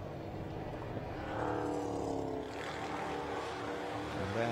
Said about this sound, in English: Batch of cars coming down in towards Graham Hill Bend, including number 90 Scott Jeffs